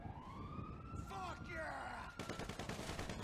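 GTA 5 gunfire crackles in quick bursts under a wailing police siren and game noise, loud and busy over about three seconds.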